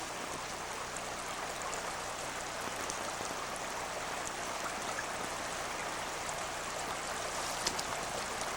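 The Tangle River in Alaska flows and trickles steadily, a soft, bright babbling wash with faint splashes throughout and no talking.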